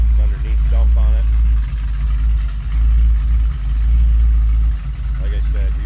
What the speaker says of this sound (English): Exhaust underneath dump on it.